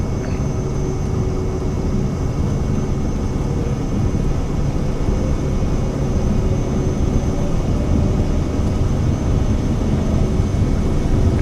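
A Vision Jet at takeoff power rolls down the runway in the MSFS 2024 flight simulator, a constant broadband engine roar with a steady high whine on top that builds slightly toward the end, with no voices.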